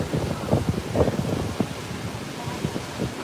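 Wind buffets a microphone in a mid-October evening in Taipei. Low rumbling gusts come and go against faint street ambience, with muffled talk partly buried beneath them.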